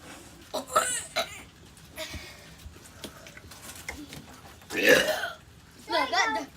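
A child's burps come in short bursts amid throaty noises and vocal sounds, with two louder, longer burps near the end, fairly close and indoors.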